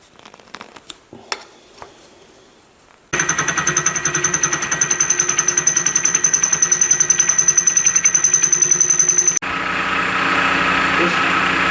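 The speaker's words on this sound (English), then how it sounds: "This face wheel leaves an awesome finish though" Face wheel grinding a finish on metal in a machine shop, a steady mechanical whir with rapid regular chatter that starts abruptly after a few seconds of quiet handling noises, then shifts to a smoother continuous hum near the end.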